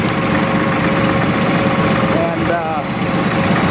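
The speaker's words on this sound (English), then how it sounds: "Tractor has been driven." A Porsche tractor engine idles steadily with a low, loud, continuous rumble, and a brief voice comes over it near the end.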